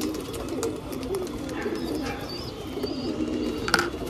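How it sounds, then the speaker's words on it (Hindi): A pigeon coos softly in a loft where a white pigeon is kept, its low, repeated rolling calls running steadily through the clip with a few faint chirps and rustles around it. "ये व्हाइट कबूतर है जिसके मैं पर खोल लिया हूँ"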